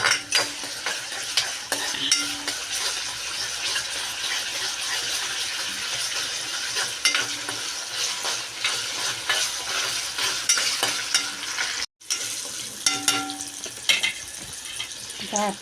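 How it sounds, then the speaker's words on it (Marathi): Tomatoes sautéed with yam (suran) pieces in a pan over a high flame, a continuous sizzle under regular scraping stirs of a spoon, with a brief silent gap near the end. "आपण टॅमॅटोसुद्धा ॲड करून घेणार आहोत तोही त्याच्यावर परतून घेणार आहोत"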